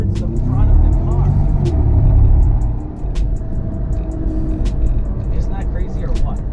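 A car with helium and air-filled balloons inside accelerates from low speed, a steady engine rumble building and holding throughout, with road noise and faint interior sounds.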